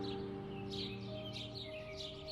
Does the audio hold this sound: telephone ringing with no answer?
no